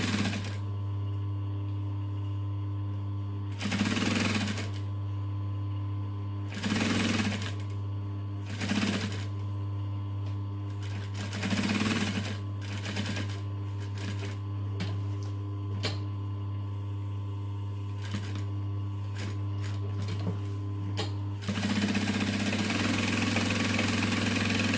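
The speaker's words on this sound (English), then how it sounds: "you just hold it in the center and stitch down each edge" A sewing machine runs in short bursts, stitching along the edges of a vinyl clutch. Its motor whirs over a constant low hum, with pauses between the runs of stitching.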